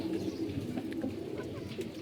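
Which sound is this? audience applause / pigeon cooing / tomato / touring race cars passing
pigeon cooing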